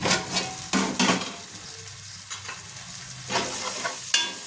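Onions and tomatoes softening in a pan, a soft sizzle broken by several bursts of stirring and scraping, close and moderately quiet, no voices.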